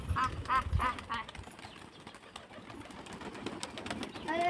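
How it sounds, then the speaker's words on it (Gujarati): Pigeons gather around scattered cooked rice on a rooftop, giving soft repeated cooing calls at the start over a busy, rustling background of wingbeats and movement. "તો બધા કબૂતર બાણ આવી ગયા ને ભાત પાસે પતી ગયા હે"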